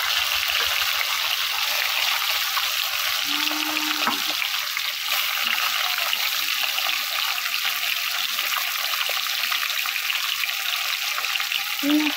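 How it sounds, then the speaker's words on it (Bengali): Fish frying in hot oil, several pieces together in a home kitchen pan, a steady dense sizzle and crackle running loud and close throughout, with a faint low tone briefly rising under it. "তো চলো মাছগুলো ভাজা হোক।"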